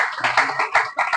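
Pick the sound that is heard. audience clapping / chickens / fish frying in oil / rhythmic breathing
audience clapping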